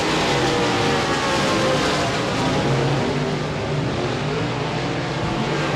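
USA Modified race cars racing at Devils Bowl Speedway in 2017, their engines a loud, continuous roar that holds steady with no break.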